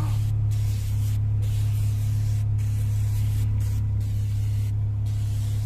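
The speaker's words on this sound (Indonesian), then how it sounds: "Kita coba lagi kita semprot." A cleaning product sprayed from a spray bottle onto a car, a continuous loud hissing spray over a low steady hum with faint rhythmic gaps, and no talking.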